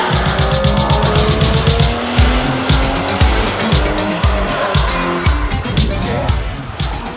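A Porsche Boxster with a mid-mounted 2.7-litre flat-six engine, driven hard, its engine loud and close and rising and falling through revs with repeated gear changes and what sounds like tire noise.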